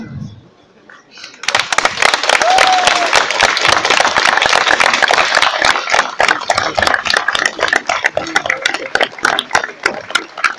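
Standing ovation at a concert, with a dense, sustained wall of applause from a large audience that starts abruptly after a brief quiet moment and continues steadily to the end.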